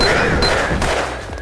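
Gunz video-game gunfire rattles in a short, loud, dense burst with sharp repeated shots over a busy game background.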